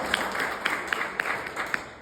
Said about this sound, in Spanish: Damos un aplauso a Susana.